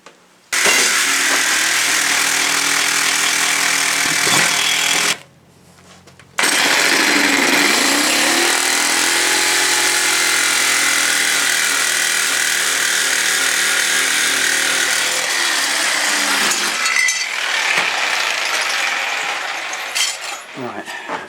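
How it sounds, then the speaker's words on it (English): Power grinder grinding clamped-together sheet metal pieces in a garage, a loud continuous whine that drops out briefly and then runs on steadily before tapering off, with no talk over it. "Just literally clamp them together, put them on the grinder, and make them the same that way, rather than worrying about cutting them exact."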